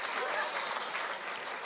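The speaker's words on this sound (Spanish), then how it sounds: "Le damos un aplauso, por favor, a los camioneros." A church congregation applauds for truck drivers, a dense, even burst of clapping from a crowd that fills the whole short moment.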